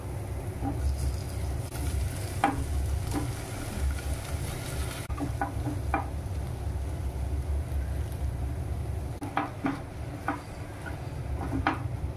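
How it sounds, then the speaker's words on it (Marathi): Potatoes frying in a pan for kadhi wada make a steady low sizzle with faint scraping of stirring, a few sharp clinks standing out over the continuous hiss. "आपण बटाटे टाकून घेऊ।"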